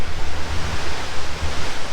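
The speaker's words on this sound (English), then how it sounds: "the wind, picking up on a fall day" Wind gusting beside a river on an autumn day, a steady broadband rush with low rumbling buffets against the microphone, continuous and close throughout with no talking.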